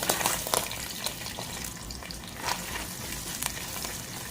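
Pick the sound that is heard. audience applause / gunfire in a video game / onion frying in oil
onion frying in oil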